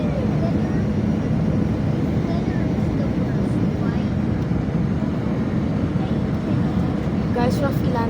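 Steady loud roar in the cabin of an AirAsia Airbus A320 as it lands at Manila, heavy low rumble throughout with a few faint tones and voices chattering under the noise.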